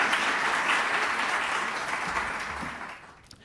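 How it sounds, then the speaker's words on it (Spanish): Warm audience applause for a science lecture speaker, a full round of clapping that gradually thins and fades out toward the end. "Un aplauso para él."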